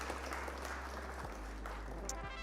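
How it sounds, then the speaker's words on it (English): During a livestreamed card game session, applause sounds faintly and steadily, a low wash of clapping under a persistent electrical hum. "Round of applause for our opponent, though."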